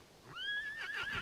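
In the online horse-riding game Star Stable Online, a horse gives a single clear whinny with a rising, wavering tone, loud against a quiet background.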